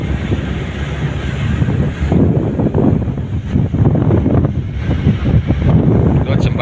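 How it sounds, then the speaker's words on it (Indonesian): Strong onshore gusts of wind buffet the microphone in loud, uneven roaring bursts, with water and a voice faintly beneath, at the port of Aveiro, Portugal. "ini angin dari darat, ini mulai kencang anginnya."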